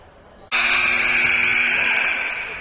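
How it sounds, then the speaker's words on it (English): A loud electronic buzzer ending a timeout in a school volleyball tournament gym cuts in suddenly and holds a harsh continuous tone for over two seconds, drowning out faint crowd noise. "Timeout is over. Very loud buzzer here."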